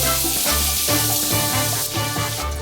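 Tomatoes sizzle and fry in a hot Kukhmara kazan with celery already in the pot, giving a steady hissing crackle with a few louder bursts, heard alone with no talk over it.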